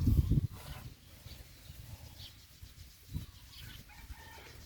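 A rooster crows in the early morning at a rural spot, a short loud burst at the start followed by fainter clucks and distant bird calls over low background noise.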